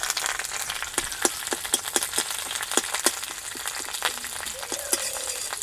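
Pumpkin-leaf roll filling frying in a little oil with curry leaves, a close crackling sizzle punctuated by many sharp ticks and pops, with brief faint clinks and no speech.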